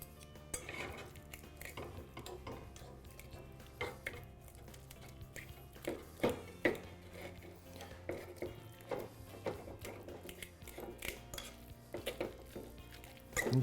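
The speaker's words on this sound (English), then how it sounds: "Just going to roughly mash that up." Ripe avocados being roughly mashed with fresh lime juice in a bowl for guacamole, repeated squelchy pressing and utensil knocks against the bowl, close and fairly quiet, with no talking.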